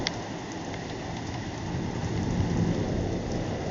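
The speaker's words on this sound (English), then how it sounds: "It's raining in here." Heavy rain pours and drums steadily on surfaces during flooding in Indiana, a dense continuous hiss that swells slightly louder toward the end, with no voices.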